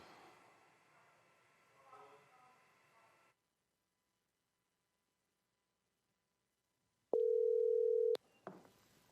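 A telephone call connects: muffled talk gives way to silence, then a loud, steady dial-type tone holds for about a second before cutting off, followed by a brief click and the start of a voice.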